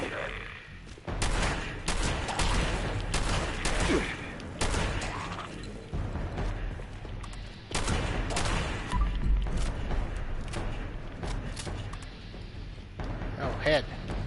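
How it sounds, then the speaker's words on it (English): Heavy gunfire from big guns in Fallout 76, loud repeated bursts and booms across the stretch with gaps between volleys, while a person talks over the shooting. "Okay, big guns time."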